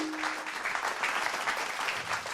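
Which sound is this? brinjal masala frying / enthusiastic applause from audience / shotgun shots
enthusiastic applause from audience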